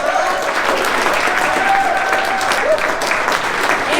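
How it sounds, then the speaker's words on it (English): A crowd at a haunted-attraction tour panel gives Fear Factory a loud, dense round of applause, steady clapping filling the room with a faint cheer or whistle in it. "let's go ahead and give Fear Factory a round of applause for hosting us last night"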